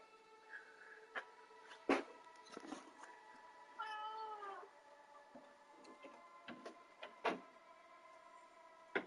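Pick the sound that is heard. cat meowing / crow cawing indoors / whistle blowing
cat meowing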